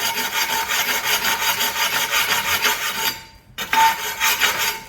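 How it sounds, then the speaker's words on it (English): Sanding tool rubbed along the rough edge of a ceramic porcelain tile gives a steady rasping scrape in repeated strokes, close and loud, with a short pause before the strokes resume. "now you come back with the sanding tool, take the rougher edge, go from the edge in so it don't crack up again"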